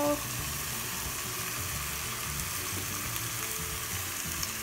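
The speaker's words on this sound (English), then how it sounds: "this is when I'm going to be adding my tomato sauce" Tomato sauce poured onto tender meat sizzling in a pan, a loud steady frying hiss that holds evenly throughout.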